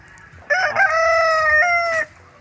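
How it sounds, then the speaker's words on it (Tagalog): A single rooster crows once, loud and close, a drawn-out call lasting about a second and a half over faint background noise. "May isa pa akong manok dito, si Rene."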